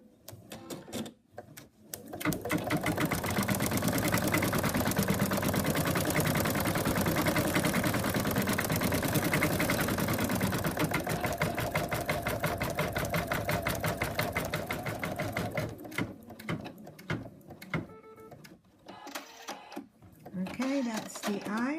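Embroidery machine stitching eyes onto minky fabric with water-soluble stabilizer, a rapid, even mechanical chatter that runs steadily for most of the stretch, then turns sparser and broken as it slows near the end.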